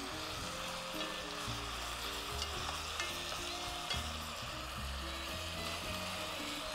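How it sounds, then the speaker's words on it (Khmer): Pork stir-fries in a hot pan with a steady, dense sizzle and repeated scraping stirs, heard alone and fairly quiet throughout. "យើងត្រូវការកូរឲ្យវាដាច់ទឹកឲ្យបាត់ក្លិនសាច់ជ្រូកសិន"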